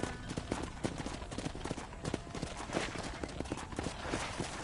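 Horse hooves clip-clopping at a steady walk, a continuous run of hollow knocks under a dense wash of outdoor ambience and movement noise, fairly close.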